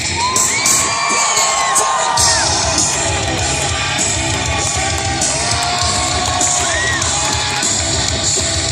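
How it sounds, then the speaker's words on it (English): A large crowd at a BMX action sports show at the North Carolina State Fair cheers and shouts continuously, with high yells and whoops rising over a dense, loud roar throughout. "Get loud for Billy!"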